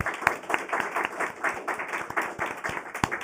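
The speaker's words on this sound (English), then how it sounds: "Please give them a big round of applause." A modest audience claps for symposium panelists, individual hand claps audible as a quick, uneven patter, fairly soft and slightly distant.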